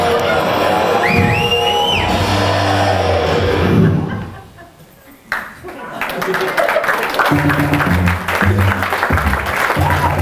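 Applause and some whoops from an audience at Orange Hall, a loud crowd clapping mixed with voices and tones, dropping away briefly midway, then clapping and talk returning.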